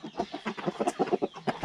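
Chickens such as Ga Noi, Asil, Shamo and Belgian Giant clucking in a rapid, uneven burst of short calls close by, with no talking over them.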